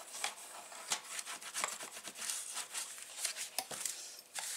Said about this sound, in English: And we're going to burnish that into place.